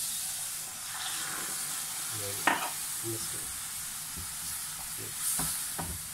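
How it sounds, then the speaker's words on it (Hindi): Milk poured into roasted flour in a hot pan over medium heat and stirred, giving a soft sizzle and hiss with scattered spoon scrapes and clinks, faint and close. "तो अब इसमें मैं 1 गिलास दूध है, मैं वो ऐड कर रहा हूँ।"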